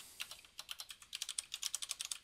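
Rapid keystrokes on a computer keyboard clatter in an uneven but steady stream, close and crisp, with no speech.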